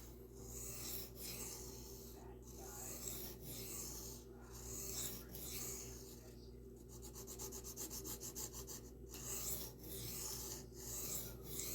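A knife blade rasps back and forth across diamond sharpening plates in steady, repeated strokes, close and fairly quiet, with a brief burst of faster scraping midway.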